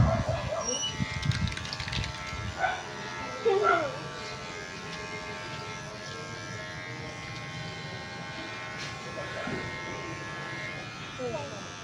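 Electric clippers buzz continuously while shaving a senior man's head bald at a free haircut, a steady mid-level hum with people talking over it throughout.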